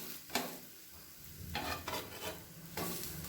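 A flatbread of wheat rava and moong dal fries in a pan after being flipped, with soft continuous sizzling and a few brief scraping bursts from a spatula.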